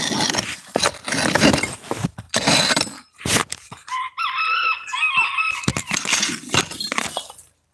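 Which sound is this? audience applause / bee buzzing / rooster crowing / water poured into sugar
rooster crowing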